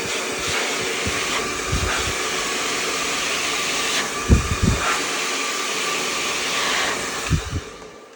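A hair dryer blows in a steady loud whoosh throughout, used while styling a short hair patch upright, with a few soft low thumps near the end.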